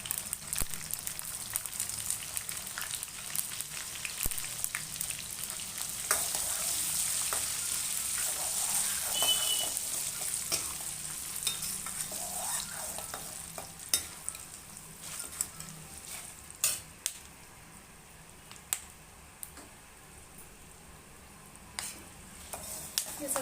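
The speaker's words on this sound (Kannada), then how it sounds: "ಇದು ಸ್ವಲ್ಪ ಸಿಡಿಯುತ್ತೆ ಅಂದರೆ ಸ್ವಲ್ಪ ಬಾಯಿ ಬಿಡುತ್ತೆ ಕಡಲೆ ಬೀಜ" Peanuts frying in hot oil in a pan for gojju avalakki, a steady close sizzle with scraping stirs and scattered sharp pops and clicks from the nuts, running alone throughout.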